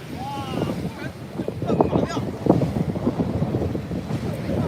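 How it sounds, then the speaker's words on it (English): Wind blowing at Lake Wakatipu near Queenstown, gusty rushing buffeting the microphone with lapping water beneath, rising and falling, while a person talks over it. "the wind's just starting to kick now"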